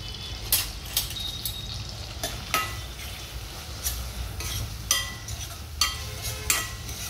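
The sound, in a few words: onion frying in oil and butter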